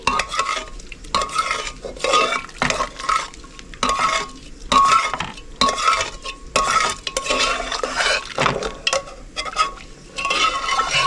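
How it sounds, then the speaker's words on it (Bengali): Boiled moong dal being mashed with a metal ladle: repeated rhythmic scraping and clinking strokes against the pot in quick bursts, close and fairly loud, with no voices. "ডালটা সিদ্ধ হয়ে গেছে, ডালটা একটু হাতা দিয়ে ঘেটে নিচ্ছি।"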